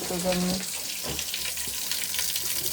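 Hot water runs steadily from a tap for cleaning a house entrance hall floor, a continuous rushing stream close by, with a brief tone at the start.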